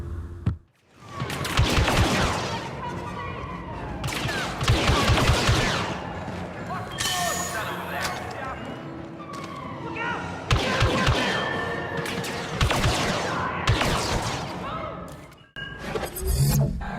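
Gunfire from a third-person Star Wars shooting video game: dense volleys of blaster and rifle shots and rapid bursts, loud and nearly continuous throughout, with short lulls between exchanges.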